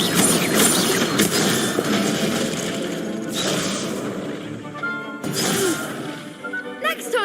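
Incendio fire spell cast in the video game Hogwarts Legacy, with bursts of whooshing, crackling combat effects and impacts among dense game sounds, while a voice calls out spell names.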